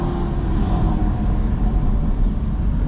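Aston Martin V12 Vantage S fitted with an F1 exhaust, a loud, steady, deep engine drone held close by for about three seconds, no talk.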